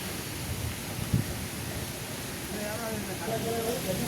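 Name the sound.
light rain drizzle and wind starting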